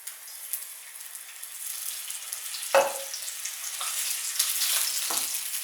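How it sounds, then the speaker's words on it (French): Veal fat and olive oil sizzling in a frying pan, a continuous bright crackling hiss up close with a couple of sharper spits and pops, no voices. "je vais mettre mon gras dans la poêle. Et je vais rajouter un peu d'huile d'olive"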